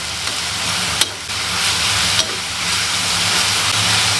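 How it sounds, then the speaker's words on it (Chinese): Shredded potatoes stir-fried in a wok over high heat in oil with ginger, garlic and dried chillies, giving a loud, steady hiss and sizzle with a couple of sharp clinks from the spatula. "把土豆丝捞出，放入锅中，大火快速翻炒"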